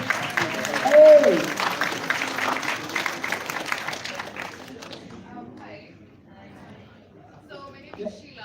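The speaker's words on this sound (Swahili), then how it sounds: "Tupige makofi." Audience applause at a university talk on toxic relationships, a loud burst of clapping and cheering with a shout over it that fades after about four seconds into quieter murmuring and chatter.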